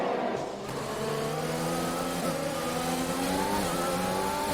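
Race car engines rev hard in an F1 video game at the Hungarian Grand Prix, a loud whining engine note climbing and shifting through gears, with rising harmonic sweeps and a steady roar throughout.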